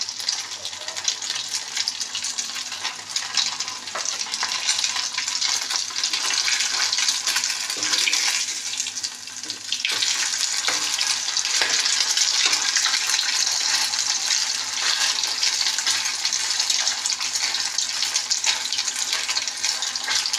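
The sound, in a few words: frying loti fish fritters (bora) in oil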